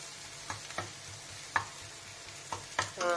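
Ginger garlic paste fries in a pan for a spicy tomato gravy, a soft steady sizzle broken by several clacking stirs of a spoon against the pan, close and fairly quiet.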